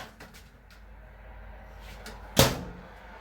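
A single sharp clunk of an RV microwave door in a Starcraft Autumn Ridge 263TH travel trailer snapping open, fairly close, after a stretch of quiet room noise.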